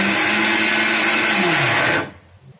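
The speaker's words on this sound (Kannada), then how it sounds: "ಸಾಫ್ಟಾಗಿ ಮಿಕ್ಸಿ ಮಾಡ್ಕೋತಾ ಇದ್ದೀನಿ." A mixer grinder blends chopped apple, beetroot, carrot and ginger with half a glass of water, a loud steady whirring roar that holds for two seconds and then cuts off as the motor winds down.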